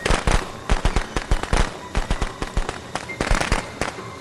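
Firecrackers go off in the Friday the 13th video game, a rapid, irregular string of loud, sharp pops and cracks that crackles on without stopping.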